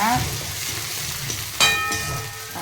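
Onions sautéing in oil with mustard seeds, curry leaves and dried red chillies for a pumpkin fry, a loud close crackling sizzle with stirring and a sharp metallic clink partway through.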